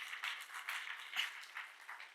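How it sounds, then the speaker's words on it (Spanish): Congregation at a church service clapping together, a soft, somewhat distant patter of many hands with a slightly pulsing rhythm, brief and moderately faint. "Un aplauso al Señor en esta mañana."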